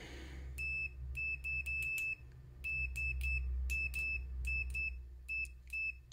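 Multimeter continuity tester giving short high-pitched beeps in quick irregular clusters over a low steady hum, close and fairly quiet, with no talking.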